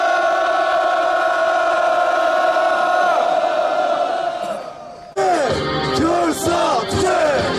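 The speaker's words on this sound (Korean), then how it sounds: "금일 오전 최태원 규탄 집회 여러분의 힘찬 함성으로 시작하겠습니다" A rally crowd of union workers protesting outside a prison lets out a long, loud sustained collective roar, which fades, then swells again into a dense chorus of shouting voices.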